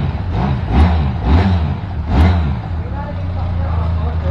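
A Benelli two-cylinder motorcycle fitted with an aftermarket pipe revs up in three loud, rising bursts close by, then settles into a steady idle.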